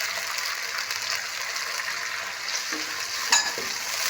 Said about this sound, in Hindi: तकरीबन 10-15 सेकंड के लिए इसे हम फ्राई करेंगे।